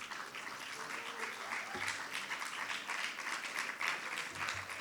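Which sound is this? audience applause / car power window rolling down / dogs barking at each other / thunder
audience applause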